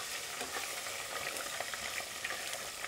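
Food fries in hot oil with constant crackling and sizzling, punctuated by sharp little pops and spits, close and fairly loud, with no voices.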